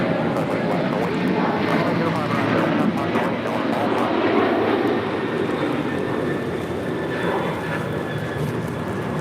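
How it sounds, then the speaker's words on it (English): A United Airlines Boeing 737-900ER takes off from runway 25 right at LAX, a broad, steady engine roar holding loud throughout, heard from the airfield with people talking over it. "This is United Airlines 515 taking off to Houston Intercontinental on a 737-900 ER"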